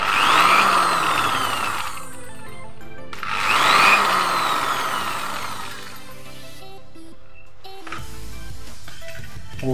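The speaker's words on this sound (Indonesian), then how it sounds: "Ini beban induksi atau rotor nih, halus sekali suaranya" Induction motor load running off a Taffware NBQ1000W inverter, a steady smooth whine with rising and falling surges and fading, fairly close and loud with no talking.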